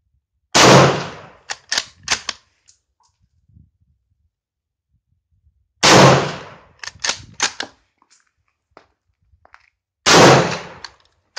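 An M1916 Spanish Mauser rifle chambered in 7.62x51 NATO fires three loud, sharp shots several seconds apart, each followed by the metallic clack of the bolt being worked, in an outdoor setting.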